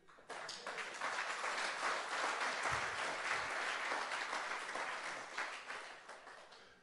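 A church congregation applauds to praise God, with dense, sustained clapping from many hands in a reverberant hall, starting abruptly and fading slightly toward the end.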